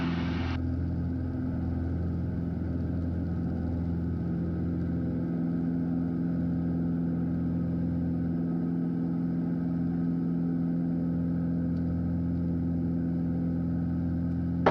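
A Piper Malibu PA46 single-engine aircraft climbing after takeoff with its gear up, giving a steady loud droning hum throughout with no talk.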